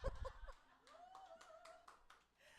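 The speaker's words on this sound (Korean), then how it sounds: "네, 박수로 모시겠습니다." A small audience at a seminar gives scattered, quiet claps, a few distinct hand strikes spaced apart, with soft laughter and murmuring voices in the background.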